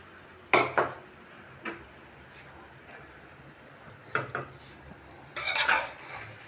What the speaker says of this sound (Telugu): మనం సర్వింగ్ బౌల్లో తీసేసుకుందాం